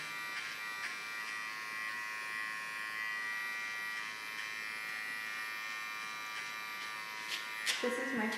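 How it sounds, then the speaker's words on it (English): A small electric hair clipper trims the contour line during a haircut, a close, steady buzzing hum running throughout, with a few soft taps and a brief rustle near the end. "With a small clipper, I clean the contour line."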